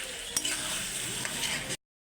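Tomato masala for a fish and potato curry sizzles and fries in a pan while being stirred, a dense steady crackle with a couple of scraping clicks from the spatula, close and continuous, before cutting to silence.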